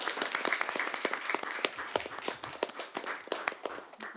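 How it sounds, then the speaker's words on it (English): Audience at a debate final claps for the moderator and judges: a moderate crowd with distinct individual hand claps scattered irregularly, crisp and fairly close, with no talking. "Ladies and gentlemen, a round of applause for our moderator and judges."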